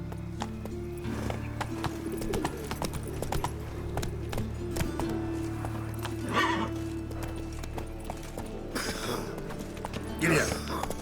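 The horse Roach in The Witcher 3: Wild Hunt gallops with steady clip-clopping hooves and lets out a few neighs and snorts, under music and occasional character voices.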